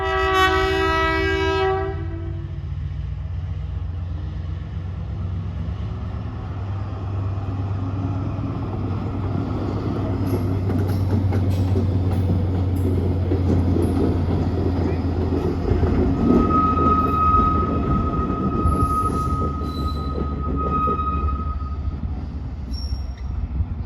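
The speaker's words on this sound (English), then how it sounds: "Quite a few rail enthusiasts here to see that Hastings DEMU" A Hastings DEMU diesel train passes through a station, its horn sounding loudly at first and then giving way to a sustained diesel rumble with rail noise and a brief wheel squeal. Voices can be heard faintly in the background.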